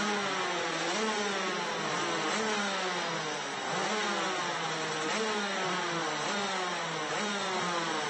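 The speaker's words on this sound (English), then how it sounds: "The revs start to rise." Several Rotax DD2 racing kart engines rev together before the start of a race, a dense, continuous high-pitched buzz with rising and falling pitch sweeps from many karts at once, loud and close throughout.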